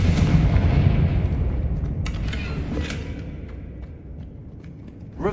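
The Confringo fire spell in the Hogwarts Legacy video game goes off as a heavy, rumbling blast that fades over several seconds, followed by faint clinking debris, with no talk.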